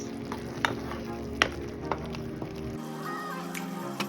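Fried cauliflower florets are tipped into a thick gravy in a pan and stirred, with a steady sizzle and a few sharp scraping knocks of the spoon against the pan.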